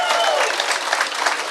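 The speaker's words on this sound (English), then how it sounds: "Please give a round of applause to the Honorable Alan Page." A warm round of applause from an audience welcoming Alan Page, a judge and former football player, onstage; dense steady clapping fills the whole moment without pause.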